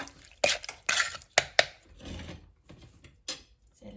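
A pestle knocks into a mortar while blanched squid salad is pounded with fermented fish sauce, a run of sharp clacking strikes followed by softer scraping and a final knock.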